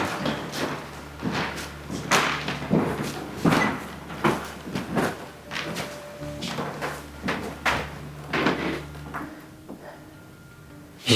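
Repeated dull thuds and knocks inside an opera house, close and fairly loud, like things bumped or set down, over a low hum.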